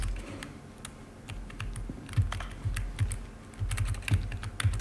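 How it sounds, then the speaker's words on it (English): Rapid clacking keystrokes from a computer keyboard in a video game, steady and close with uneven bursts of taps, no talking over it. "Schöner Keyboard-Sound."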